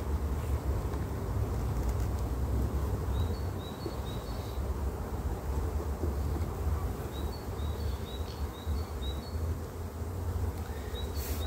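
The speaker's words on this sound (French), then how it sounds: "vous avez beaucoup d'abeilles dans la ruche" Honeybees humming inside a beehive, a continuous low drone of many insects close by, with faint wind-like background and a few thin high chirps drifting in and out.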